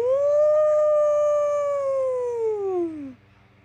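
A voice imitating a whale call with a long sustained howling tone that slowly rises and then slides downward before fading, loud and alone over a faint low hum.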